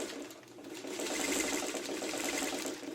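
Close, steady whir of a sewing machine stitching a 1/8 inch seam on an inset circle, the needle's fast rhythmic chatter running continuously and swelling slightly as it speeds up.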